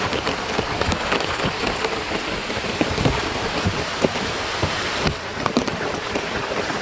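Heavy rain pours down steadily, a dense hiss with scattered louder drops hitting a surface nearby.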